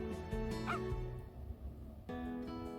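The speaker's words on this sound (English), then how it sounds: "Now there's a dog, crazy." A dog barks in the video game Where the Day Springs Red, giving a few short, fairly close yips and woofs over soft background game sound.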